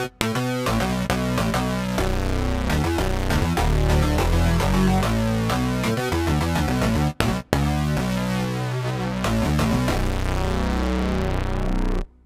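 A buzzy square-wave tone from a Korg Op Six synthesizer plays a run of notes through a resonant MS-20 filter, sweeping and squelchy, loud and continuous with one short break.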